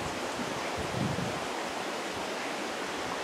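A stream carrying lots of water rushes past with a steady, dense, loud roar that fills the whole stretch without a break, no voices present.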